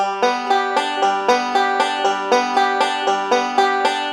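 Banjo picking a short thumb, index, thumb, middle roll, crisp plucked notes falling in a quick steady pattern, up close and alone.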